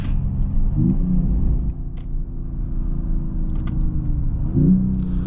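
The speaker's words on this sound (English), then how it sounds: "the shifts from this 9-speed AMG gearbox are really impressive" A 2026 Mercedes-AMG E53 Hybrid wagon with a 9-speed AMG gearbox accelerates from inside the cabin, its low engine rumble rising and twice dipping briefly as quick upshifts occur.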